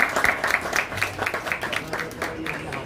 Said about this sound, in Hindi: जोरदार तालियों से एक बार बधाई